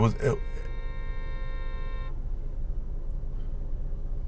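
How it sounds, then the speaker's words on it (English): Car horn on a Washington, D.C. street sounding one sustained steady honk for about two seconds just after a brief voice, then low traffic rumble continues underneath. "people just honking their horns for no reason whatsoever"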